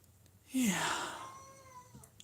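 A kitten meows once, near and clear, in a drawn-out call that rises and then trails off into a fading tail in an otherwise quiet room.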